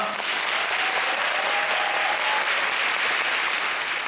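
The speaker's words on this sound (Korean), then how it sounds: "나머지 두 분 배우에게 다시 한번 박수 부탁드리겠습니다" Theatre audience at the final performance of the musical Next to Normal gives loud, sustained applause, a dense continuous roar of clapping throughout with no break.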